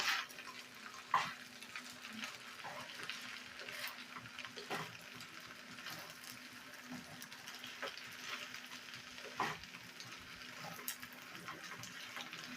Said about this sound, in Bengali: দিয়ে আবারও নাড়াচাড়া করে রান্না করে নিতে হবে